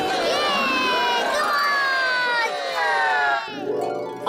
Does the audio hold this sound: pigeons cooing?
no